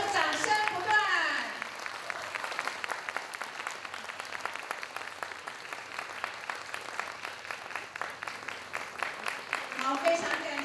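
Sustained applause fills a hall as an audience claps steadily for a lecturer at a training session, a dense, even patter throughout, with a host's voice heard briefly at the start and end.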